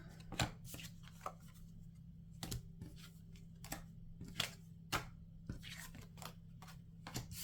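Tarot cards are shuffled by hand in a series of quiet, brisk flicks and snaps at an irregular pace, close up against a faint low hum.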